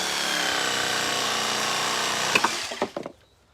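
A hand saw cuts through wood for a hoop house over a raised garden bed, a continuous rasping stroke that ends in a few sharp cracks and knocks as the piece breaks free, then quiet.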